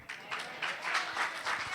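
A church congregation at an anniversary service claps together, a steady rhythmic applause of many hands pulsing about four times a second, moderately loud and continuous for a couple of seconds.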